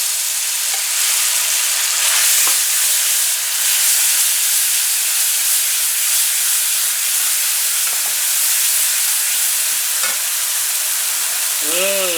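Dhal being chunked into hot oil for Guyanese wedding-house bhunjal dhal, giving a loud, steady, close sizzle and hiss that runs unbroken, with occasional faint stirring knocks and no voices.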